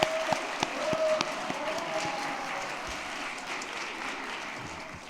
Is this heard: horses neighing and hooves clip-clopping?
no